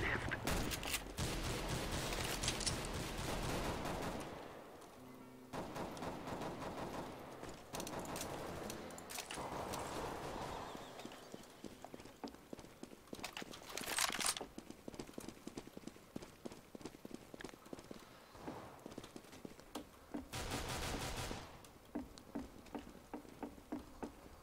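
Rapid bursts of gunfire in Counter-Strike: Global Offensive, a competitive match, come in repeated volleys across the clip with short gaps between them. A faint voice speaks at times underneath.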